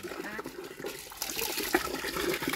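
Water gushes steadily from a newly installed hand pump, a continuous rushing splash that grows slightly louder, with people talking over it.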